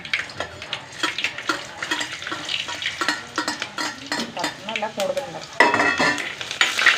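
Urad dal sizzles in hot oil in a pan while a spoon stirs it. A continuous frying hiss runs under repeated scraping strokes, and the sizzle swells louder toward the end.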